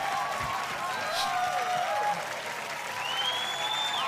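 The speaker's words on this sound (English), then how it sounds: "They're clapping." Studio audience on a game show clapping steadily, a continuous wash of applause with faint crowd noise throughout.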